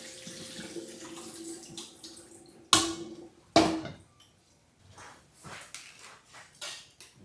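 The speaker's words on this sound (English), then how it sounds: "Strain my rice." Cooked rice is strained as water splashes and pours, with two sharp knocks of a pot or strainer, then lighter trickling and rattling.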